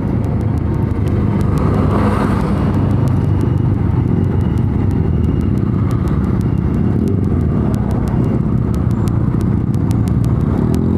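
A small motorcycle with small wheels and a pierced double exhaust roars loudly and steadily close by, a continuous rough rumble that holds throughout with no voices over it.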